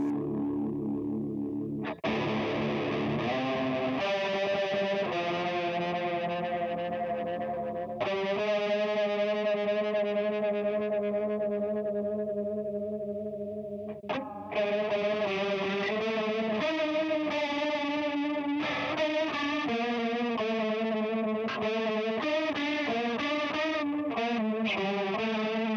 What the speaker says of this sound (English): Crank the depth all the way.